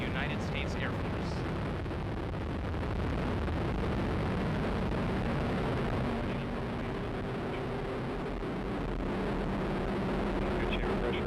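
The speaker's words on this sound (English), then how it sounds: "Liftoff of the United Launch Alliance Atlas V rocket with AFSPC-11 from the United States Air Force." United Launch Alliance Atlas V rocket lifting off with the AFSPC-11 payload for the United States Air Force, a steady, loud broadband roar and rumble that holds for the whole stretch.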